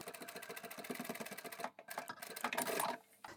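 A sewing machine stitches fabric for a multi-pocket wallet and card holder with a quick, steady mechanical chatter, pausing briefly midway and then running again before stopping.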